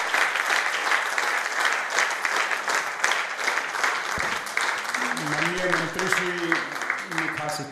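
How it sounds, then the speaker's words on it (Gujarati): Sustained audience applause at a Gujarati humour award ceremony honouring Tarak Mehta, dense steady clapping throughout, with a voice speaking over it toward the end. "એકવાર ખૂબ તાળીઓ આ સર્વોચ્ચ સન્માન માટે."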